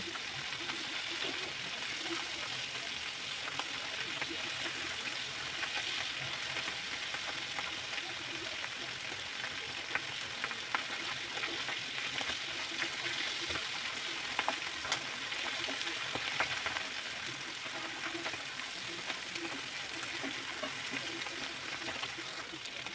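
Rupchanda pomfret fish fry in a pan with oil, making a continuous, even hiss of sizzling with soft crackles and occasional pops, moderately quiet and steady throughout.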